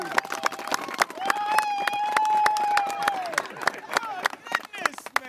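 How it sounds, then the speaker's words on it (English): Scattered clapping from a youth football team, the Halton Cowboys U13, rings out in sharp, uneven claps, with a whistle-like voice or cheer rising briefly in the middle. "Big round of applause for Michael Pinball."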